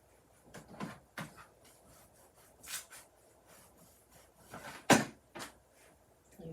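A spatula rubs rub-on transfers onto a paper craft in short scratchy strokes, irregular and close, with one sharper scrape midway and quiet pauses between.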